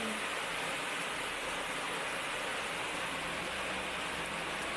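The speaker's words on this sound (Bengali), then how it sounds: "দেখো বৃষ্টিটা কিরম হচ্ছে শুধু দেখো দেখতেই পাচ্ছ বৃষ্টিটা একদম মুসলধারে বৃষ্টি" A dense, steady roar of heavy rain pouring down, constant and enveloping with no letup.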